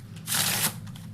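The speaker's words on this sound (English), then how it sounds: "the spectator is allowed to completely shuffle up this deck of cards as much as they want to" A deck of playing cards being shuffled, a single quick riffle-like burst of papery rustle lasting about half a second, close and fairly clear, with no talking.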